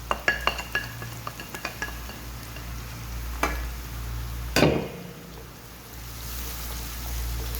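Salt, chili, turmeric, coriander, nigella seeds and black pepper cooking in a pan for eggplant bharta, with quick spoon clinks against the pan, a faint low sizzle and one louder scrape.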